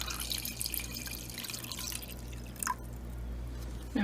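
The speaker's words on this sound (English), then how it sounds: "And fill that up a little bit with water." Water trickles and drips into the water bowl of a sulcata tortoise enclosure, a soft, continuous splashing close by with a few sharper drip sounds.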